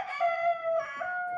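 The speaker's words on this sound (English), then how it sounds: "This is a rooster." A rooster crows once in a drawn-out, wavering call, fairly clear and close over faint background noise.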